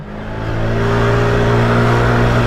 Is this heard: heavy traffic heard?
yes